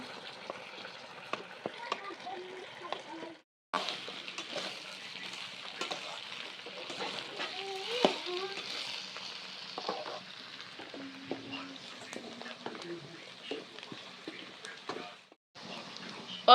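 Onions and lotus stem (nadru) fry side by side in hot oil, a soft, fairly quiet sizzle with stirring clatter; faint voices are heard in the background.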